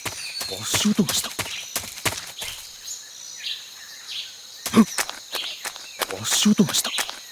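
Footsteps in Metal Gear Solid 3, irregular soft thuds and scuffs spaced across the clip against a quiet backdrop of insect and bird ambience, with voices speaking between steps.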